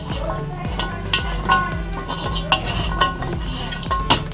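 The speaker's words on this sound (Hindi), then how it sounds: "अब देखिए मैंने इसमें आधी चम्मच तेल लगा लिया पूरे तवे पर।" A metal spoon spreads half a spoonful of oil over a tawa griddle, scraping and clinking against the pan in a steady rhythm of short close strokes.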